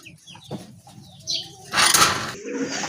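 A pigeon, one of a big-sized, deep red pair offered for sale, gives a brief close burst of wing flapping midway, set among quieter rustling and faint clucking sounds.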